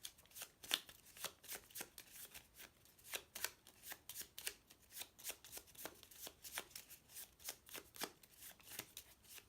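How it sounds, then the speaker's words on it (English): A stack of game cards for a fantasy board game is riffled and shuffled repeatedly, giving steady, soft, crisp bursts of card flutter close up in a quiet room. "So we take them all together and we give them a good shuffle."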